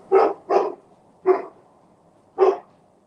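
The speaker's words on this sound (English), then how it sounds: "So my neighbor's dog." A neighbour's dog barks four times, two quick barks close together, then a single bark and another after a pause, fairly clear and alone with no talk.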